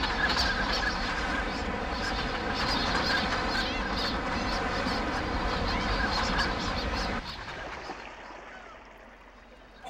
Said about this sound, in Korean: 이곳 홍도를 자유롭게 넘나드는 것은 새떼들이다.